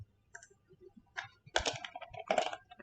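Short bursts of computer keyboard typing during data entry in JASP statistics software, crisp close key clicks in two quick clusters, with quiet pauses between.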